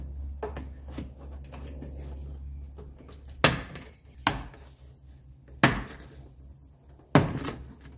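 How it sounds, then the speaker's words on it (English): Sharp cracks of a pry tool popping plastic clips out of the door panel on a 1985 wagon, four distinct loud snaps at steady intervals over low rumbling background and small handling noises. "we're gonna pry out the clips"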